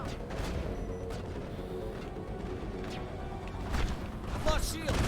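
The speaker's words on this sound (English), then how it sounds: "I'm still getting shot at." Gunfire aimed at the player in the Mass Effect video game, a dense, continuous barrage of shots and impacts layered with game noise and a speaking voice, swelling louder toward the end.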